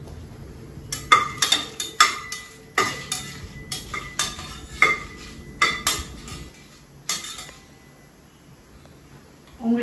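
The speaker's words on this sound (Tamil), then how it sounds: "அதுல வந்து காஞ்ச மிளகாய் போடுறேன். ஒண்ணுமே எண்ணெய்லாம் கிடையாது, வெறும் காஞ்ச மிளகாய்." Dry red chillies tossed in a bare pressure cooker with no oil, a metal spoon scraping and clattering against the pot in a quick irregular series of sharp knocks and clinks, close and fairly loud, fading to quiet near the end.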